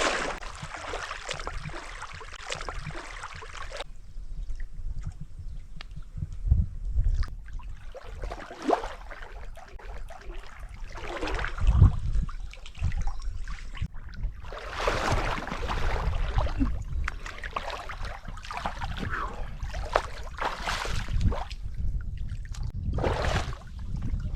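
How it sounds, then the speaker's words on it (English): Wading and splashing in clear river water in a canyon at Devil's River, Texas, with repeated sloshing and trickling surges of water close by, no talking. "I'm going into the beautiful clear water."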